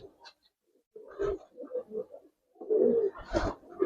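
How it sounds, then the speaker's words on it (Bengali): Army-type pigeons with cumin-coloured necks coo in a loft, low throaty bursts coming in short irregular phrases, close and moderately loud, with a brief pause before a louder stretch at the end. "জিরা গলা আর্মি টাইপের কবুতর এগুলো।"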